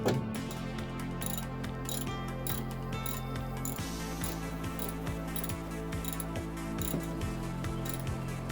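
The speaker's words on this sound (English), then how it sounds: "Grab the socket. Alright, so make sure you got an 11 millimeter deep dish." A ratchet wrench fitted with an 11 mm deep socket tightens bolts on a carbon fiber spoiler being installed on a Chevrolet SS sedan, giving rapid repeated clicking strokes close up, with no talking.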